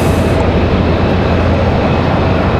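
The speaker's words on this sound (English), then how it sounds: "Looks like we got a Southwest coming in now." A Southwest Airlines airliner arriving at Raleigh-Durham International Airport fills the scene with a loud, steady broadband engine roar, constant and close throughout, with no speech.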